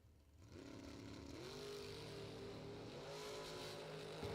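A dragster at a drag race roars down the strip, its engine a loud sustained blare that climbs in pitch as it accelerates, heard from trackside with no talk.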